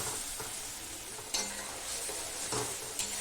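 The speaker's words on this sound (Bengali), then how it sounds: "এইভাবে নেড়ে নেড়ে কষাতে থাকবে, না হলে নিচেতে জ্বলে যাবে কড়াইয়ের নিচটা" A spiced masala paste is stirred and fried in a kadai, giving a steady close sizzle with repeated scraping strokes and a few sharp metal clinks of the spoon against the pan.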